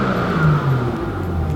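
A BMW F8X M car engine holds a steady, close, loud drone at around 4,000 rpm, its pitch wavering slightly with no pause for the whole stretch.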